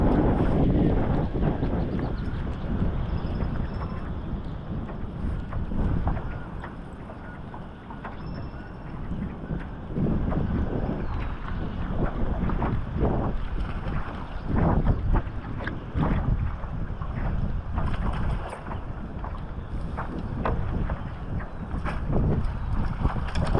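Steady wind blowing over an angler's kayak on the water at East Harbor, Ohio, a continuous rough roar buffeting the microphone with small knocks and splashes and no talking.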